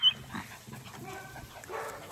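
A small puppy on a farm in Jamaica yaps and whimpers in a few brief, uneven bursts, close by but fairly quiet, over faint background noise.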